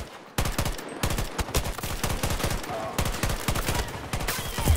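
Gunfire in the video game Battlefield 2042 during a team deathmatch, sharp rapid bursts of shots crackling in quick clusters with short gaps, fairly close and loud.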